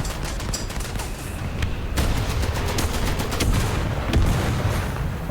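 Tank cannon and machine-gun fire from the War Thunder video game, a dense, continuous crackle of repeated shots with sharp louder bangs near 2, 3.5 and 4.2 seconds, no talking.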